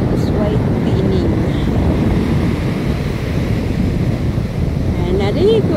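Sea waves break and wash in a constant loud roar, mixed with buffeting wind against the microphone, while voices faintly talk now and then underneath.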